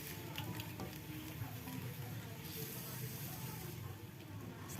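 Sautéed cucumber with water being stirred in a pan, producing a steady close sizzle and frying hiss with faint scraping throughout.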